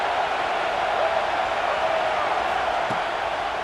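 Stadium crowd at a college football game featuring South Carolina, a steady loud roar of cheering and noise that fills the space without letup.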